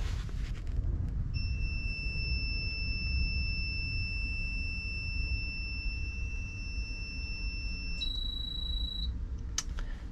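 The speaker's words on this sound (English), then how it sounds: "you're going to hear a really long, loud beep that's going to come from the inverter" A long, loud electronic beep from the inverter of a 2023 Rove Lite 14FLEV travel trailer holds steady for several seconds, then shifts pitch briefly before cutting off, over a low background rumble.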